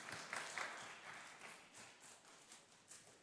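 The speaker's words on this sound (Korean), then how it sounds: "박수로 환영해 주세요." A church congregation at a Sunday young-adult worship service applauds in a steady patter of light clapping, faint and somewhat distant, fading gradually.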